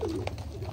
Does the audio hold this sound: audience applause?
no